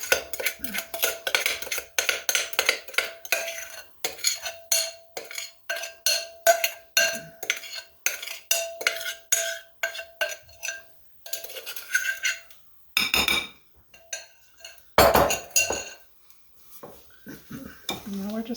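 Rhubarb is folded into cake batter in a bowl, with a spoon or utensil clinking and scraping against the bowl in an irregular series of close, sharp knocks and stirring strokes. A voice talks briefly among the clatter.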